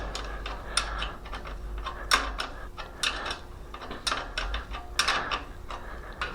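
Rapid ratcheting clicks from a wrench tightening bolts on a Schwinn trike rear hub, a close, steady series of metallic ticks coming in short bursts over a low background hum, no speech.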